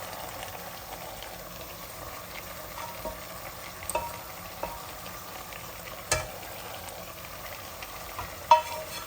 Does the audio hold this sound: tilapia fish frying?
yes